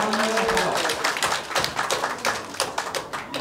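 Guests at a Lanna Thai wedding clap for the groom, a close, lively burst of hand claps and taps that thins out toward the end, with faint voices mixed in.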